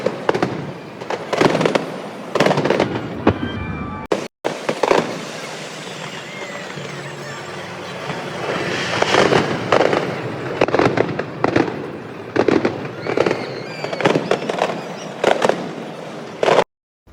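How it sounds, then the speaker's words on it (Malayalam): New Year fireworks over London burst almost without pause, a dense barrage of loud cracks and booms rolling over a constant crackling roar, with only a brief break near the start. "പിന്നെ അങ്ങോട്ട് ഫയർ വർക്സിന്റെ പൂരം തന്നെയായിരുന്നു."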